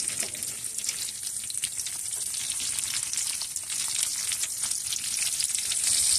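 Prawns stir-fry in a hot pan with a dense, crackling sizzle and faint scrapes of stirring, close and steady throughout with no talking.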